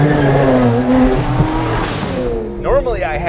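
A two-rotor rotary-engine Corvette Z06 with very long gearing drives past, its engine a loud, steady drone that lasts throughout. Speech runs over it, and a sharper rising pitch sweep comes near the end.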